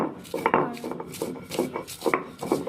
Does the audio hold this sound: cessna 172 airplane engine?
no